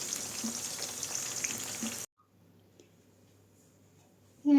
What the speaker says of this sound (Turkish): bu şekilde ben patlıcanların hepsini kızartayım